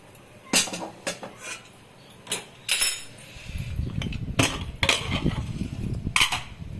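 A metal lid comes off a pot of dal cooking for a Bengali shukto with drumsticks, bottle gourd and bitter gourd: a few light metallic clinks and scrapes, then a soft steady bubbling and rustle near the mic.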